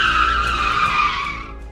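Animated airplane touching down hard and skidding to a stop, a loud continuous screeching scrape that holds steady and then fades slightly toward the end, with no talking.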